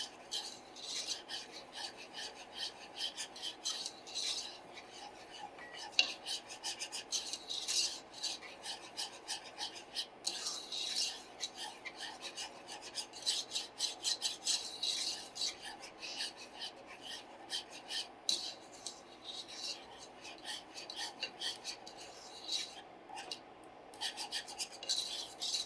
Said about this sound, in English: So we're going to keep stirring.